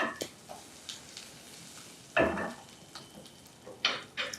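Green chilies and fresh ginger frying in a pan for poha biryani: soft, faint sizzling with occasional clinks and scrapes of a utensil against the pan.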